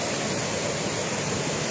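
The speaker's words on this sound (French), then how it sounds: "là c'est la cascade de la Franée" The Cascade de la Frasnée waterfall pours in a steady, dense roar, a constant broadband wash with no breaks or voices.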